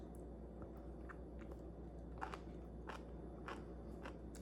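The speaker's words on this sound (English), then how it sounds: "I want y'all to hear this crunch." Crunchy food is bitten and chewed close to the ear, giving a handful of soft, crisp crunches spaced a second or so apart over a quiet background.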